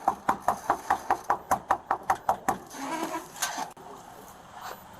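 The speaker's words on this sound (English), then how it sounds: "Let me knock on it first" Someone knocks on the door of a house in an apartment building: a quick, evenly spaced run of about a dozen sharp raps, then the knocking stops and faint room noise follows.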